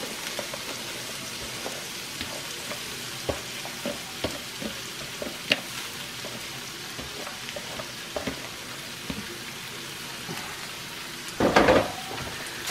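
Onions and green peppers sizzling in a skillet alongside Polish sausage, a steady crackling fry like light rain with scattered pops and a brief louder scrape of stirring near the end, no voices.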